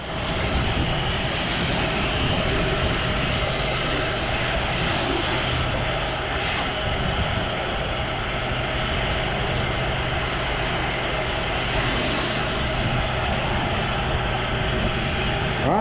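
A water spray rinses soap off a surface as part of an exterior soft-wash job, giving a continuous broadband rushing hiss that stays fairly loud and even throughout, with no voices.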